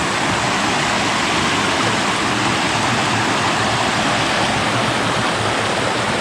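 A waterfall in Nakhon Phanom, Thailand, rushes in a steady, loud, broadband roar close by, unbroken for the whole stretch with no voices over it.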